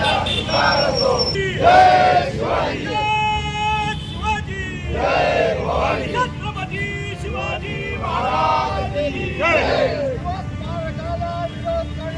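BJP party workers in Dhule celebrating outdoors, a crowd shouting rhythmic slogans in repeated loud bursts, each chant rising then fading, with cheering and general hubbub between them.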